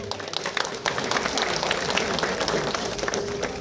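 Audience applause at a Hyderabad City Police event marking Sardar Vallabhbhai Patel's birth anniversary, a steady dense wash of many hands clapping that holds evenly for a few seconds.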